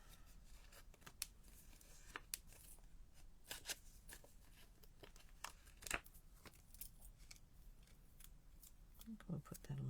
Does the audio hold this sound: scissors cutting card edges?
yes